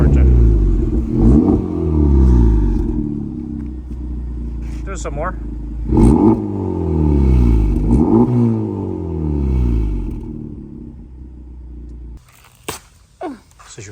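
A Honda Civic Type R fitted with an AWE aftermarket exhaust revs repeatedly, each rise and fall of the engine loud and close, while people talk over and between the revs.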